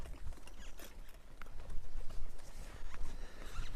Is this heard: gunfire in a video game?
no